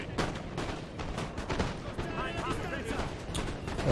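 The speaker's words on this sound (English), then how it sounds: "That was a lovely volley from the 69th." A musket volley in Napoleon: Total War crackles out as a ragged burst of overlapping gunshots, followed by scattered booming reports, with someone speaking over the din.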